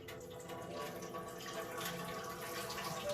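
Rinse water is poured off a pot of wild and parboiled rice in a kitchen, a soft, steady trickle and splash throughout, fairly quiet.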